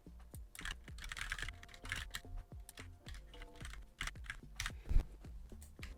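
Steady computer keyboard typing while code documentation is written, a dense run of close, crisp keystrokes with brief pauses and no voices.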